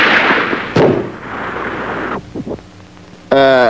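A sharp gunshot from a Cuban animated cartoon set around a mountain cave, a single loud crack followed by echoing rumble, with a brief bright ringing tone at the end.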